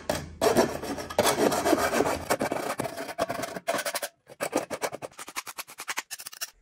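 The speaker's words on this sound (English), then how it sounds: "Make sure you file all the sharp edges." Close-up rasping of a file scraping the sharp metal edges of a tin can, in repeated strokes that start long and continuous and turn into quick, regular short strokes.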